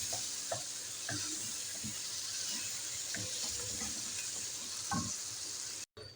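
Powdered ginger and other spices fry in a pan for an egg dish, a faint steady sizzle broken by soft rhythmic stirring scrapes, with no speech.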